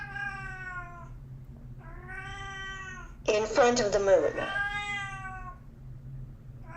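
A pet cat meows several times at close range, the calls rising and falling over steady indoor background noise, with a louder, harsher yowl in the middle; a person talks over parts of it.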